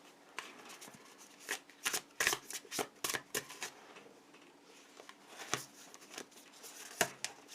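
Tarot cards shuffled by hand during a Christmas reading, a run of crisp riffling and slapping bursts in irregular clusters, close and fairly quiet with no talking.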